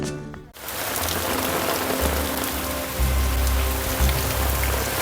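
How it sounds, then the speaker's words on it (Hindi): Sudden heavy rain in the Andaman and Nicobar Islands pours down in a dense, continuous hiss close by, with a low rumbling undertone after a brief quieter start. "अचानक से बहुत तेज़ बारिश स्टार्ट हो गई है।"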